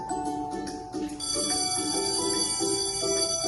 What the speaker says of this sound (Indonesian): bunyi bel menandakan jam istirahat sekolah. Bunyinya terdengar nyaring di telinga